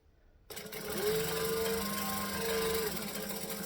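A sewing machine runs steadily after a short quiet start, stitching cotton canvas fabric onto a small scrap, its motor hum close and continuous without speech.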